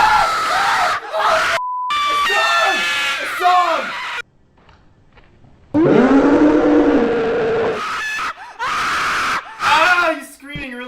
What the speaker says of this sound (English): it's the same stock scream used in the video game Slendy Tubbies